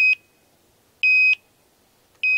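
A portable gas detector in a mine sounds its oxygen alarm: three sharp, high electronic beeps, each about a third of a second, spaced roughly a second apart, close and clear over near silence.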